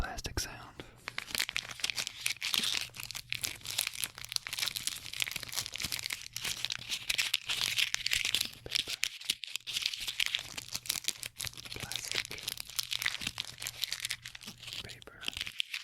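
Close, continuous crinkling and tearing of disposable medical paper and plastic items in an ASMR setting, crisp rustling throughout with a steady low hum underneath.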